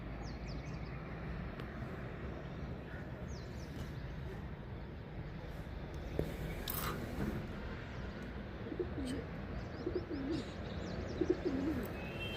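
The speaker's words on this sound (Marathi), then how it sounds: "कबूतर चिमण्यांचा खूप आवाज येतो आमच्या इथे" Pigeons cooing softly and sparrows chirping in a quiet Pune morning, faint intermittent calls near and far over a low background hum.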